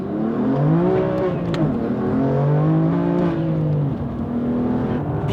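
A 600-horsepower BMW M4 accelerates hard up a mountain pass, its engine note climbing and dropping through gear changes, loud, close and continuous with no talking.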